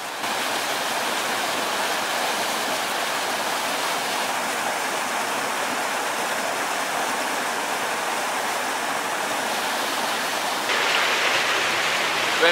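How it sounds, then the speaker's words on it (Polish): A wild, icy mountain river in Bavaria rushes in a steady, loud roar of white water, continuous and close with no breaks. "Przeprawa przez dziką rzekę."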